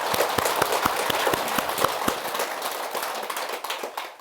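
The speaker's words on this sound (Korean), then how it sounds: "우리 격려 박수 한번 쳐줘요." A small audience at a Buddhist dharma talk claps in encouragement, a handful of distinct, close hand claps in an uneven rhythm that thin out and fade over a few seconds.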